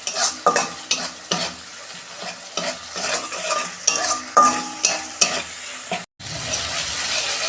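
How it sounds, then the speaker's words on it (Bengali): Spices with Kashmiri chilli powder being stir-fried in hot oil, a spatula scraping and stirring in repeated strokes over a steady sizzle, with one brief break near the end. "কাশ্মীরি লঙ্কা গুঁড়ো দিচ্ছি। আমি ভালো করে কষাবো, কাঁচা গন্ধটা যত চলে যায়।"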